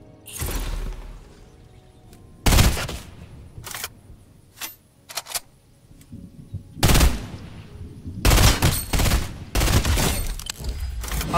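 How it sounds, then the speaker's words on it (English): A burst assault rifle fires in a video game, loud close bursts of rapid shots separated by quiet gaps, with sharp clacking mechanical clicks between volleys. "I'm popping off with this burst assault rifle"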